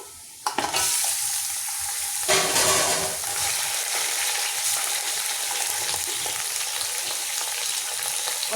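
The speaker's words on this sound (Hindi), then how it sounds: "अब इसको मैं फ्राई करती हूँ, भूनती हूँ अच्छे तरीके से" Mutton chops sizzling steadily in a pan with browned onions and tomatoes, a loud continuous frying hiss broken by a few stirring scrapes near the start.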